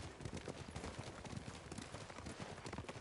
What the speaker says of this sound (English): Got me riding through a cemetery on my horse